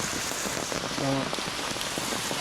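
Steady rain falls on surfaces outdoors, a dense, even patter that continues throughout, with a single brief spoken word partway through.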